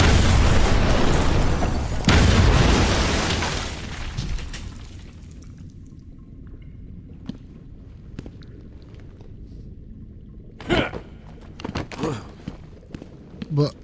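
A loud explosion in Batman Arkham Asylum opens with a heavy boom and a second blast, then a rumbling decay that fades to quiet, followed later by scattered thuds and impacts.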